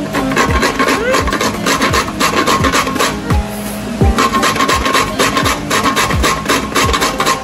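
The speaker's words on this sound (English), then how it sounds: "Now I'm grating my nutmeg." Nutmeg grated by hand on a metal grater, loud close rasping strokes repeated in a steady rhythm, about two per second, with no talk.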